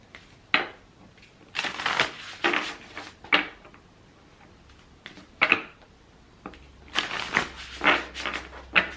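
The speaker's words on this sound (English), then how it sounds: "so let me just shuffle the deck" A deck of tarot cards is shuffled close up in a series of quick riffling and flicking bursts separated by short pauses, crisp and fairly quiet.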